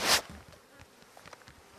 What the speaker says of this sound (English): That's the first time I've ever been surrounded by that many bees.